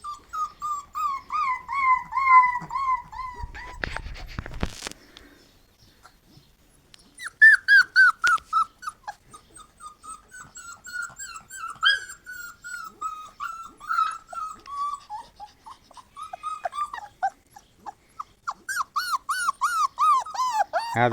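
Puppies on a farm whimper and whine in repeated high-pitched cries, close by, with short pauses and a brief rustle between bursts.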